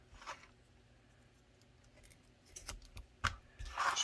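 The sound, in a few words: cutting around the light while making a holster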